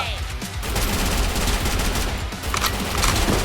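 Bursts of gunfire in the Free Fire video game, loud, dense rapid shots with sharp cracks layered over each other, continuous for a few seconds amid busy game noise.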